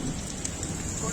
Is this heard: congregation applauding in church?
no